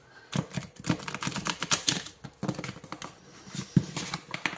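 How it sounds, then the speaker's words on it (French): Tarot cards of the archangels are drawn and handled in quick succession, with close crisp flicks, slides and light taps of card stock in uneven bursts. "Je vais prendre 3 cartes."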